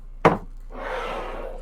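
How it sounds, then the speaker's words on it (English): A sharp wooden knock, then a soft, steady scraping as a small wooden box slides across a tabletop, fairly close and quiet. "A simple wooden box. And I slide it over."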